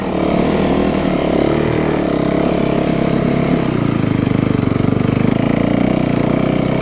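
A vehicle engine throttled steadily while riding uphill through turns, a loud continuous near drone with a low, even rumble and a slight rise in pitch partway through.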